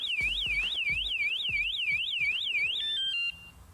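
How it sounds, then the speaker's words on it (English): An anti-theft alarm on a Leaperkim Lynx electric unicycle sounds a loud, rapidly warbling electronic siren with rhythmic thumps beneath it, then switches to a few short stepped beeps before cutting off abruptly. "it gives me a warning tone, and then it kicks into a big alarm."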